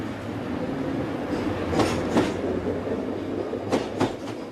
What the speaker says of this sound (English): The train is at the platform. The target is now onto the train.